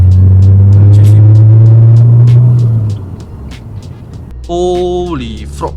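A car engine rumbles loudly close by, then fades as it passes, followed by a short rising whine of another vehicle.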